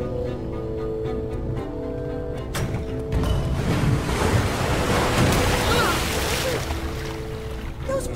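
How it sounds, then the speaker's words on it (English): Rushing water from waterfalls released by pressure plates in a video game, a steady broadband roar that swells louder after a few seconds and continues, with faint tonal game music underneath. "Those pressure plates release waterfalls upstairs."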